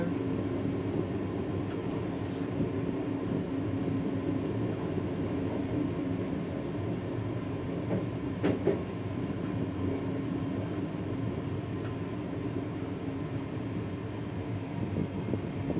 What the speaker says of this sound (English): I'm on the train now.